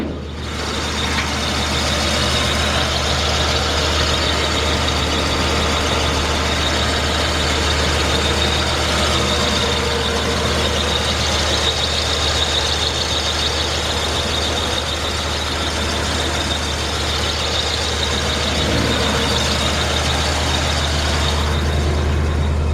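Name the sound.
1952 Oldsmobile Futuramic 88 engine running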